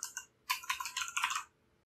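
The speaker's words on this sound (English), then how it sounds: "Let's just click on it and type in some text." Computer keyboard typing while entering text in a Canva design: a couple of quick keystrokes, a short pause, then a dense, even burst of clicky key presses lasting about a second, close and alone.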